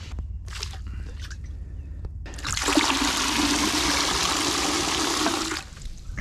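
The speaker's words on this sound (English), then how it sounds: "get some more water in my bucket" Water is scooped into a fishing bucket beside a tidal salt pond on the Chesapeake Bay, a few light trickles followed by a steady, close rushing pour lasting several seconds before it cuts off.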